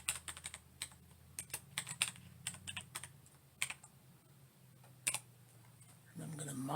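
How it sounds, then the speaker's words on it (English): Quick, close keystrokes clatter on a computer keyboard as search text is typed, in uneven bursts of clicks with short pauses and a final soft thump. "So I'm going to type data aggregation."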